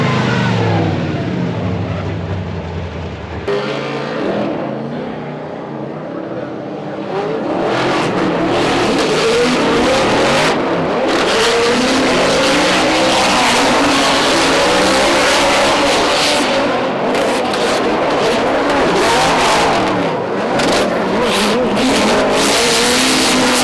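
Drift car at Formula Drift Erie, engine revving hard and tires skidding, loud and close with surging, rising engine pitch and harsh squealing bursts over roughly twenty seconds, after a brief muffled opening.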